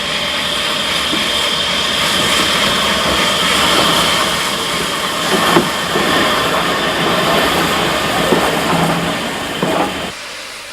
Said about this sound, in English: Latterly, power was provided by 4 powerful 262 tank engines.